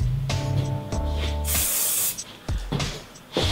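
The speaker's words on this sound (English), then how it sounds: "Go on the face, spray the hair." A low humming drone, then one loud, sustained spray hiss from a spray bottle misting hair, lasting about half a second, followed by quieter rustling.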